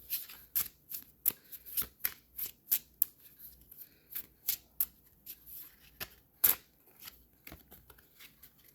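Cards shuffled by hand for a card reading, giving a steady run of crisp riffling bursts about twice a second, close and clear with no talking.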